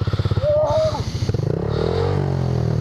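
A Yamaha FZ-07 motorcycle starting up: a rapid pulsing crank and a brief rising whine, then the engine catches into a steady, close idle rumble.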